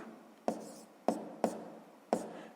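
Pen or marker writing out a sixth-grade math solution with negative decimals, with four sharp taps of the tip striking the surface at uneven intervals over a soft continuous scratching, close and fairly quiet, no talking.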